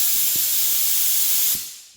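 A paint spray gun gives a steady high-pitched spray hiss continuously for about a second and a half, then stops abruptly, leaving a quieter tail.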